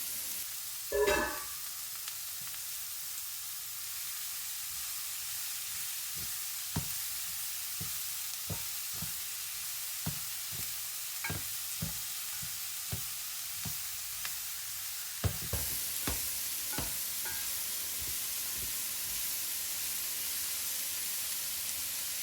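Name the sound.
deglazing chicken pan with vegetables, sizzling and stirring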